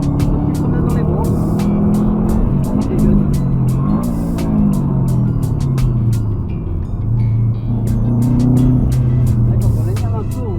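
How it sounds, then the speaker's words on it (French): A blue Subaru car engine revs and growls loudly up close, its pitch rising and falling through several pulls, with people talking over it. "Quand on l'énerve un peu, on entend comme dit les jeunes, le chétan dans le moteur"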